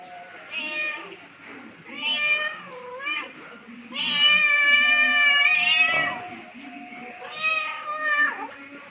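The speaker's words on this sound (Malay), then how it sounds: "suara kucing memanggil anaknya" A cat meows repeatedly in a recorded call to its kittens, long drawn-out wavering cries coming in several separate bouts, close and clear against a quiet background.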